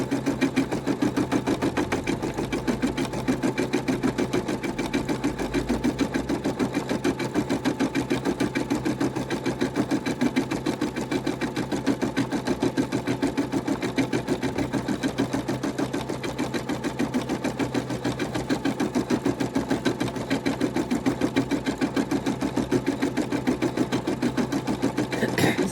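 A Brother NV180 sewing machine embroiders a set of BTS badges, its needle clattering in a fast, steady, unbroken rhythm from start to finish at close range.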